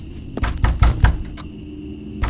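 Knocking on a wooden door at night, a series of firm, close raps in an uneven cluster, then a pause and one more knock, with no voices.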